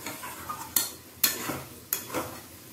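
Ridge gourd and potato pieces are stirred in a frying pan with a utensil, giving three distinct scraping strokes over a soft background sizzle, close and fairly quiet.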